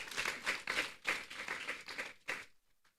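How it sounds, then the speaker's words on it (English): Bursts of audience clapping at the Nigerian Conservation Foundation annual general meeting, several rhythmic waves of hand claps that fade out abruptly near the end, fairly quiet and close. "Please, may we clap for the NCF staff."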